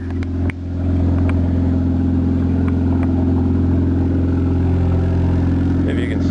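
An old Buick engine with an exhaust leak cranks briefly, catches and settles into a loud, rough idle with a throbbing low rumble and puffing exhaust ticks, recorded up close.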